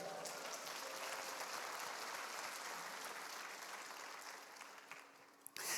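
A church congregation applauds in praise of Christ during a Spanish-language sermon, a dense, steady wash of many hands clapping together for several seconds before thinning out and stopping near the end.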